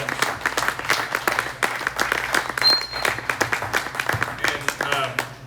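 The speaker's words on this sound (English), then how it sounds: "Yeah, so a big round of applause." Club meeting audience gives a round of applause, dense clapping running steadily throughout with voices talking over it and a brief whistle-like tone partway through.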